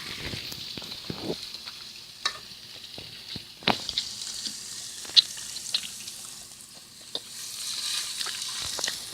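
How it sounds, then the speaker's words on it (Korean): Steady crackling sizzle of pork belly grilling, with sharp pops and spits over a constant hiss, no voices. "삼겹살 굽는 소리 ASMR 해드릴게요"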